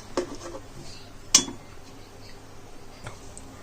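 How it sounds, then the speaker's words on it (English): Rice grains shaken in a metal pot with masala and water for Hyderabadi egg biryani, heard as a few faint clinks and rattles, one sharper knock near the middle, with no voices. "Shake a bit of rice so that the masala mixes with all of the rice grains."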